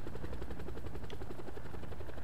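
Helicopter rotor chopping steadily in the Call of Duty: Cold War Zombies video game, a continuous low thudding drone that stays fairly loud and even with no pauses.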